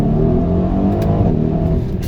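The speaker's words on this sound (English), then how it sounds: "You actually hear the valves are being blocked, so it kind of feels like it's fluttering" A 2020 Mercedes GLC 63s AMG Coupe exhaust with its valves closed, giving a muffled, fluttering engine drone that holds close and steady for about two seconds.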